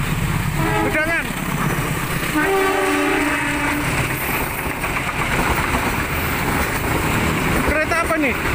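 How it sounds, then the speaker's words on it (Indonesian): Komersial XL passenger train passing the JPL 10 Gedangan level crossing at night, with loud continuous rumble and rail clatter, two horn blasts near the start and end and crossing bell tones, while people talk over it. "Kereta apa nih? Komersial XL."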